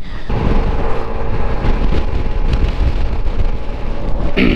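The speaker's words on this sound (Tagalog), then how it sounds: "Sobrang hangin eh" Strong wind roars and buffets the microphone continuously during a ride from Pagudpod to Paoay in Ilocos Norte, a loud, unbroken rush with no voices.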